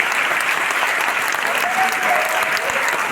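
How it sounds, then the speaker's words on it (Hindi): Loud, sustained applause fills a large hall as a big crowd claps steadily, with a voice faintly audible beneath it partway through. "आपकी जोरदार ताली बजा पाए"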